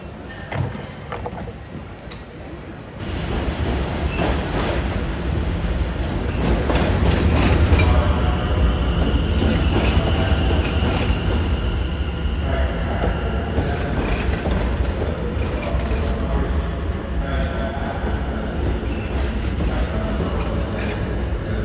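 A loud, steady rumble of a moving London Underground train car fills the scene, with rattling and rhythmic clacking as it rolls along.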